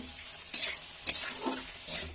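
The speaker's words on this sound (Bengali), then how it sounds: "ভালো করে নাড়াচাড়া করে দিলাম, নুনটাকে ভালো করে মিশিয়ে দিচ্ছি। এটা বেশ কিছুক্ষণ ধরে কষিয়ে নেবো সুন্দর করে।" Bata fish paste with cauliflower and potato is stirred and sautéed in a pan, with a few scraping spoon strokes over a low, steady sizzle and no talking.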